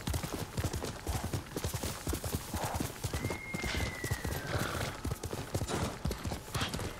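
Rhythmic hoofbeats of a horse in the video game Ghost of Tsushima clopping and galloping steadily throughout, fairly close, with a brief whinny-like tone in the middle.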